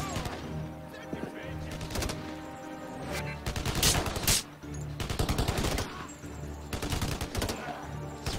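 Gunfire in the Kinect Adventures Blackwater game: repeated loud bursts of rapid automatic fire come in several clusters, with single sharp cracks between them and a voice briefly heard in the mix.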